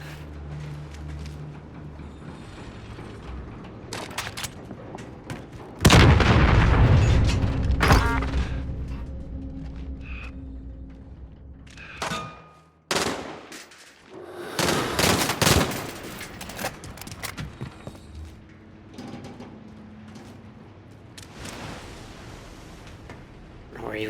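Shooter video game combat on a new map: bursts of rapid gunfire and heavy booming explosions come in loud clusters with quieter gaps between them.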